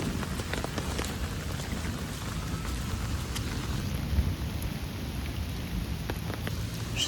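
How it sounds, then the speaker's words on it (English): Rain falls steadily during a storm, a dense close patter that stays loud throughout, with a low distant rumble of thunder rolling underneath. "that was a lot of thunder"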